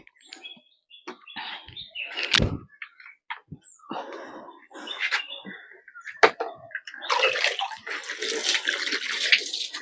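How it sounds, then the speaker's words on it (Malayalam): Water splashes and spatters in uneven bursts while a dusty item is washed outdoors. Birds chirp nearby, and the water grows into a steadier rushing spray near the end. "അപ്പൊ ഞാന് ഇതിനൊന്ന് കഴുകാന്ന് വിചാരിച്ചു"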